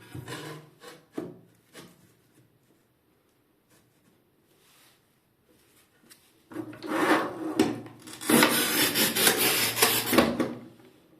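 An Intertool HT-0366 manual tile cutter scoring tile: a few scattered scrapes and clicks, a quiet pause, then two loud, close, grinding rasps as the cutter wheel is dragged across the tile.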